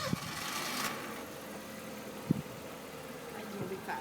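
A car's engine idles roughly as the vehicle struggles and won't go into gear, a steady mid-pitched rumble broken by a few knocks and clunks.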